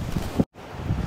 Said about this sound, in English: It's quite brisk wind, as I said earlier.